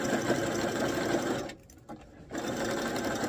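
A sewing machine hums loud and close, zigzag stitching elastic that is stretched along a dress seam. A brief pause breaks the run midway before the motor picks up again.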